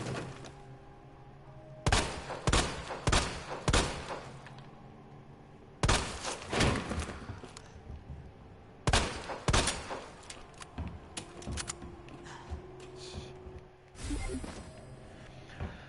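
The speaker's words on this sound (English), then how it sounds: "I love the chain gun" Chain gun fire in the Resident Evil 2 Remake video game: several loud bursts of rapid shots in clusters separated by pauses, with a steady low game ambience beneath.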